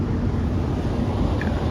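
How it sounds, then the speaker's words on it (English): Steady broadband whir and low rumble from a spinning engine fan on a Ford 7.3 Powerstroke diesel during a battery load test, constant and fairly loud throughout with no distinct cranking strokes. "That fan's spinning pretty fast, telling me that we got like at least 10, 11 volts"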